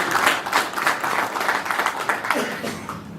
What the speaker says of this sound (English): So I think we have to clap for him.